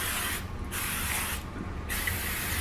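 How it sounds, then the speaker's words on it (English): Cooking spray hisses onto pork chops in two short bursts separated by brief pauses, close and fairly loud over a steady background hiss. "I'm going to spray the top of these pork chops."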